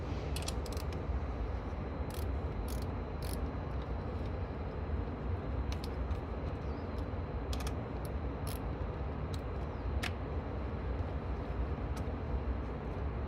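A wrench or ratchet working loose the 10mm bolts on a car battery's terminal clamps, giving a steady stream of faint clicks and creaks close by, with sharper ticks scattered through, over a constant background hiss.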